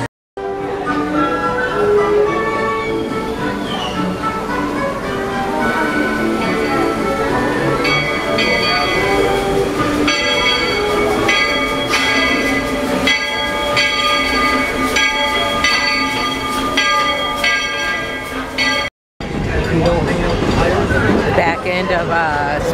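A Magic Kingdom theme park train rolls past steadily with rhythmic rumbling and a ringing bell, while people chatter and music plays nearby; a brief cut near the end.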